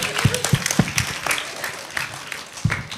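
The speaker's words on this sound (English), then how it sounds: "A big applause." Classroom applause at a growth-mindset school session: a few sharp, close hand claps scattered unevenly over three seconds, not a full crowd, with a soft murmur of voices in the background.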